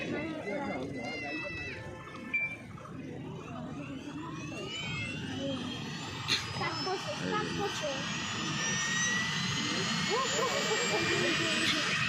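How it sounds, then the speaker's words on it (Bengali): Abhishek Banerjee's helicopter taking off, its engine and rotor roaring steadily, growing louder and higher-pitched as it powers up, with voices in the background. "সো এখন হেলিকপ্টার ছাড়বে।"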